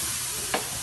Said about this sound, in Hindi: और मसाले को अच्छे से भून लेंगे